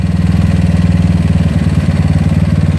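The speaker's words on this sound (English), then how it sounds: "You hear the engine roaring at 2 turns." A GY6 scooter engine fitted with an OKO PWK 30mm carburetor runs loud and close with a steady, pulsing drone, its pitch dipping slightly partway through.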